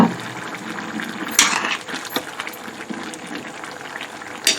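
Potato and chickpea curry simmers in a pot, a close, steady bubbling and gurgle with occasional spoon clinks against the metal.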